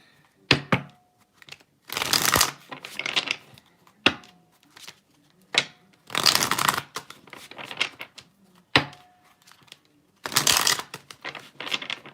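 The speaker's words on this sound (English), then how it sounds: "Let's pull some shadow cards." Tarot shadow cards shuffled by hand in repeated bursts, each a crisp riffling flutter with sharp clicks and pauses between, close and fairly loud with no talking.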